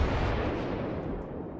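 Naval guns fire in the World of Warships video game: one heavy, loud boom opens the moment and rolls into a broad, fading rumble that fills the whole stretch.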